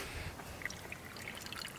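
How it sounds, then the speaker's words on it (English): Water trickles slowly in an outdoor spot in Idaho at sunset, a soft, faint, steady dribble with a few light droplet plinks and no voices. "As the water flows very slowly."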